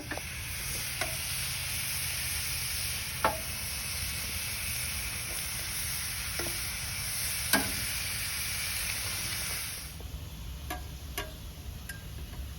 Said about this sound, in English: I'm gonna throw my steak on and get it cooked.